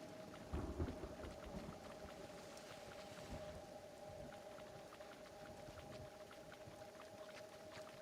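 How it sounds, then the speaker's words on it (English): Faint rain patters steadily in the Kenshi game, with a low rumble of thunder early on and a sustained tonal hum running underneath. "Acid rain, take shelter."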